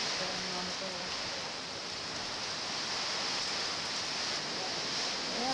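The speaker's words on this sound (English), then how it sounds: "There's that heavy duty rain" Heavy rain from Hurricane Wilma pours in a dense, unbroken roaring hiss that stays loud and steady throughout.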